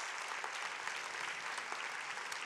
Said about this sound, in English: you have to give Forever a huge round of applause